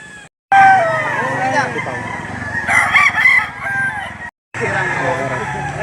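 Roosters crow loudly and repeatedly at the Lipa, Batangas chicken auction market, overlapping calls with clucking in a busy outdoor scene, with a person talking among them and two brief silent gaps.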